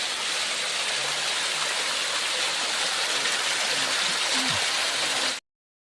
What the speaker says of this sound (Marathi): हे बघा हा धबधबा पण पूर्ण व्हायला लागला